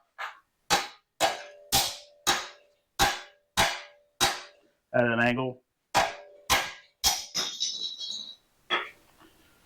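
Sharp metallic hammer blows ring out one after another in a steady rhythm, about a dozen strikes on a cut section of a Volkswagen engine part during a teardown, briefly interrupted by a short spoken remark.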